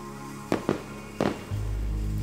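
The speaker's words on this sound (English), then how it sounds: "We're going to have a blast with these fireworks. Which one should I set off first?" Fireworks go off in a few sharp cracks and pops close by, followed by a sustained low rumbling hiss as something burns on, set against steady background noise.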